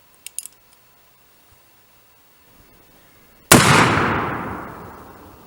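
A Colt Peacemaker .45 revolver fires a single loud, sharp shot, followed by a long decaying rumble; faint clicks are heard earlier in the quiet.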